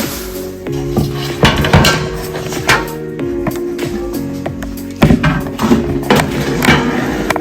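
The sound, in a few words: frying pan being handled for cooking bacon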